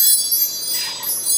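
Wind chimes ring softly in a steady, shimmering wash of high metallic tones, heard alone without any talking.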